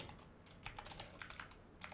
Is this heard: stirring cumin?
no